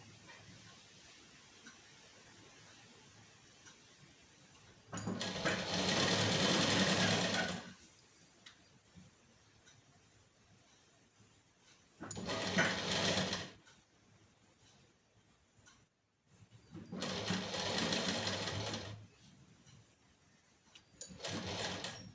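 A sewing machine stitches a blouse sleeve in three loud bursts of running, each a few seconds long, separated by quieter pauses with faint handling noise and no talk.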